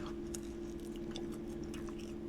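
Crunchy homemade carnivore cheesy Dorito chips being chewed up close, a steady run of crisp crunches and bites over a constant low background hum, with no talking.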